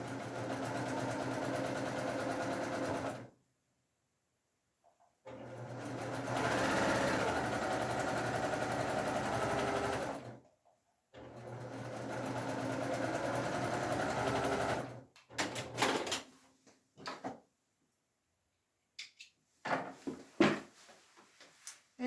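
A sewing machine stitches quilt sashing seams in three long steady runs of fast humming whir separated by silent pauses, followed by clicks and fabric handling close up.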